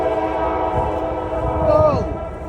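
A train rolls past close by with a loud, steady horn blast that bends downward in pitch as it goes, over a low rumble of the cars.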